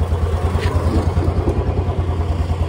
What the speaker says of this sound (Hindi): बाइक निकल चुकी है, देखिए।